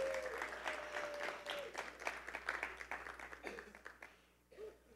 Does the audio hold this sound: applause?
yes